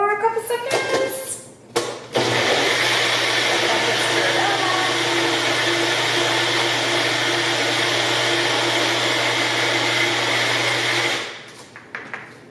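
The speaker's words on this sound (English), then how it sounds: "We're just gonna put it in the magic bullet for a couple seconds." A Magic Bullet blender whirs loudly and steadily for about nine seconds, blending protein pancake batter, then spins down; brief handling clatter comes before and after.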